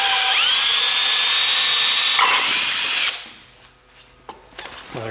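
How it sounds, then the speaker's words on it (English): A power drill bores holes through a Polaris Sportsman ATV bumper for mounting aftermarket LED lights, whining loudly and steadily in two bursts with pitch rising as it spins up, then stopping into quieter handling clatter. "I'm going to drill these"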